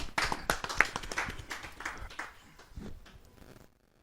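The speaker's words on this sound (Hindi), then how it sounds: "जरा जोरदार ताली के साथ हम उनका स्वागत करें।" Audience at a Hindi poetry recital (kavi sammelan) claps to welcome a poet to the stage, a burst of scattered hand claps that thins out and fades to quiet by the end.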